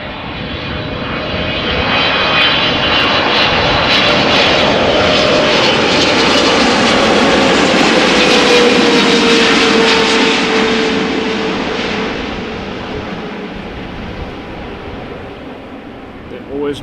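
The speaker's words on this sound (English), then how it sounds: "It is a 777 freighter, 4 years old, first flight September 2018, and it left Dubai 6 hours and 29 minutes ago." A four-year-old Boeing 777 freighter jet arriving from Dubai at Amsterdam Schiphol Airport, runway 06, passes with a loud engine roar that swells to a peak and then slowly fades as it moves away.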